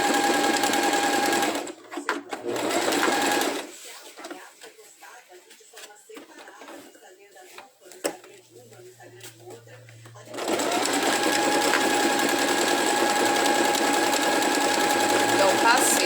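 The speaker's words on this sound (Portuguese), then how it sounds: "Vou costurando com calma, ajudando aqui com a mão, acertando pra ficar retinho" A sewing machine stitches a seam in two loud, steady runs at the start and end, with quieter hand-guided pauses between while a person talks.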